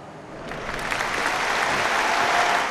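Rugby players and crowd at Twickenham give a moment of applause for a death, a broad, continuous clapping that swells gradually and stays loud with no voices.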